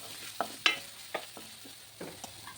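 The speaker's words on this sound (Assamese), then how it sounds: "ইয়াৰ লগত ধুনীয়াকৈ ভাজিম এতিয়া।" Ginger, garlic, salt and turmeric fry with onions in oil in a pan, a low sizzle broken by several sharp stirring scrapes and taps of a spatula.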